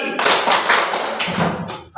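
A class of students doing a rhythmic finger-clapping chant during a fikih lesson, with sharp close claps in a quick pattern mixed with chanted voices, ending abruptly.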